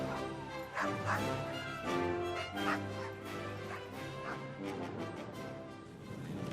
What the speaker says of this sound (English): With them were nearly 70 Canadian sled dogs, uneasy at sea and in constant need of attention.